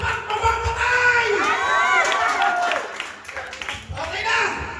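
Lively crowd cheering and clapping, with children shouting and whooping throughout at close range, briefly dipping before swelling again; voices are heard amid the noise.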